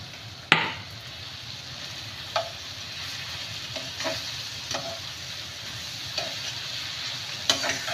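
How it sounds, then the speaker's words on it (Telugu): Pounded green chillies fry in hot oil in a pan, a steady sizzle running throughout with several sharp clinks and scrapes of a spoon stirring at intervals, close and moderately loud. "మనం దంచి పెట్టుకున్న పచ్చిమిర్చి కూడా వీటిలో అయితే వేసుకోవాలి."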